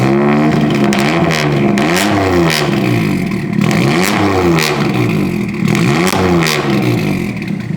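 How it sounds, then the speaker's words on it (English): A Toyota GR Yaris three-cylinder turbo engine with a street-oriented exhaust, fitted in a classic car, revs repeatedly in rising and falling sweeps, loud and close throughout, with rhythmic blips and a raspy, busy exhaust note. "this one with the actual street oriented exhaust setup actually sounds pretty decent. Don't forget that this is a 3-cylinder"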